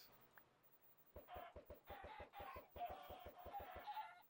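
Minecraft chickens on a farm in the All the Mods 9 modpack, clucking in a quick run of about a dozen short, even-spaced clucks, fairly close and clear, with no voices over them.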